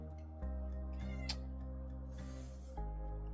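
A cat in a home meows several times up close, with steady harmonic calls; a low constant hum runs underneath.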